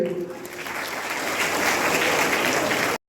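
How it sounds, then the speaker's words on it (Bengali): Audience applause at a Magura cooperative department event distributing loans to livestock farmers, a steady, dense burst of clapping that holds for about three seconds at full strength and then stops abruptly. "আমরা সবাইকে জোরে জোরে করতালি দিতে চাই।"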